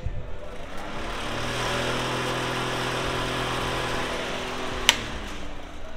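A repaired household air cooler runs with a steady motor hum and airy fan whoosh, a constant close drone with a faint low tonal buzz, broken by a single sharp click near the end.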